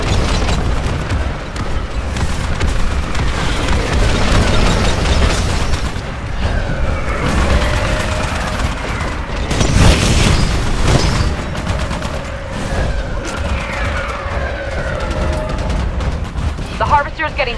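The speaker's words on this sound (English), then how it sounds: "Getting barraged by Mortar Titans." Mortar Titans shelling in Titanfall Frontier Defense: repeated booms and thudding impacts over a continuous din of combat and gunfire, with voice callouts heard throughout.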